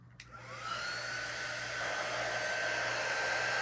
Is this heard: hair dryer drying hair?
yes